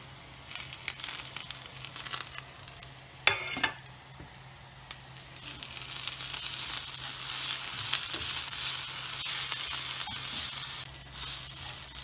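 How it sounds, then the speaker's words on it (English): Onions saute with ginger garlic paste in a pan for a rajma dish, a soft sizzle with occasional stirring scrapes and clinks that swells into a steadier frying hiss in the latter half. "So we sauteed with the ginger garlic paste for a couple of minutes."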